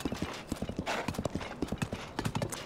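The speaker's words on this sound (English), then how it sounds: "This horse Lightning's a little hard to control." Horse hooves clip-clop in Zelda: Tears of the Kingdom, a quick, steady gallop of close, crisp hoofbeats repeating throughout.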